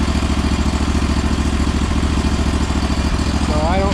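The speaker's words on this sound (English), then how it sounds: "the engine itself runs really, really good." A Briggs engine repowering a John Deere 318 garden tractor runs steadily, a loud, even mid-pitched drone with rapid firing pulses throughout, alone with no talk.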